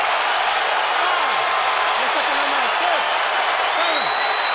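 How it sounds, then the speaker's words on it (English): Arena crowd at Oracle Arena in Oakland roaring after a boxing knockdown in round 3 of a fight, a dense, sustained wall of cheering and noise that stays loud and steady throughout. "Crowd erupts in the Oracle Arena in Oakland as local hero André Ward delivers a knockdown in round 3."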